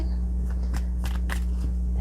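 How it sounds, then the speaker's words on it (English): Tarot cards are shuffled by hand in a series of soft, quick riffling bursts spaced unevenly over a steady low electrical hum, close and fairly quiet, with no talking. "let's keep shuffling until we actually get the right on the nose one"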